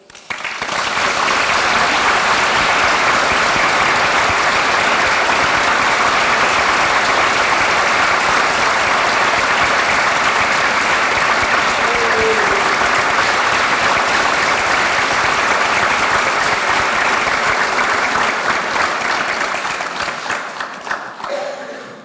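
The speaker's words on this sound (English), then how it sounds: "Thanks for the applause." Sustained loud applause from a large audience at a university graduation ceremony during an honorary fellowship award, steady dense clapping lasting about twenty seconds before tapering off at the end.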